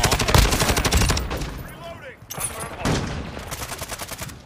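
Rapid bursts of automatic gunfire in a first-person shooter video game, loud and close at first, pausing briefly, then resuming in quick repeated shots.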